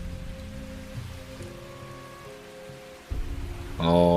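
Heavy rain falls steadily in a horror audio drama about army trainees at a night shooting range, a dense continuous wash of drops that swells louder toward the end, with no talking.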